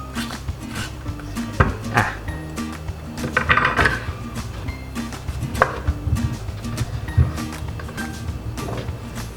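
Baked Japanese pumpkin being cut into four pieces: a knife chops and taps against a board and dish in scattered, irregular knocks, close and moderately loud, with light clinks of utensils in between.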